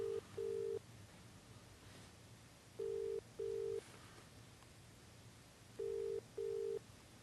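A telephone call is placed to New Zealand, giving three evenly spaced pairs of steady electronic ringback tones over a faint background hum.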